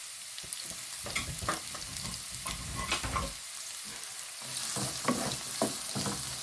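One and a half onions fry in hot oil with a steady, close sizzle, broken by repeated scraping stirs of a utensil through the pan.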